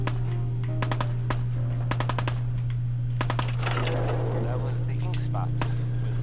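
Gunfire from the Fallout 4 video game comes in quick bursts of sharp shots, separated by short pauses, over a steady low hum, with someone talking now and then.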